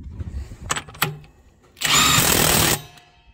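A power tool rattles wheel bolts in during a new-wheel fitting, one loud sustained buzzing burst of about a second, preceded by a few sharp knocks.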